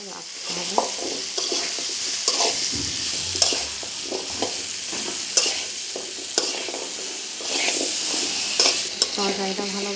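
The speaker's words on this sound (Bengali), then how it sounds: "তরকারিটা ভালোভাবে কষাতে হবে মাছের সাথে।" A spatula scrapes and clacks rhythmically against a pan as pumpkin and prawn curry is stir-fried, with repeated stirring strokes over a constant close sizzle.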